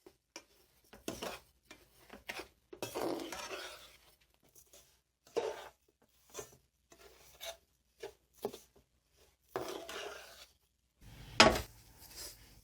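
Sugar being stirred into flour roasted in desi ghee in a pan for carrot halwa, heard as intermittent scraping and rubbing strokes of a spoon, quiet bursts separated by brief pauses, ending with a louder clattering scrape.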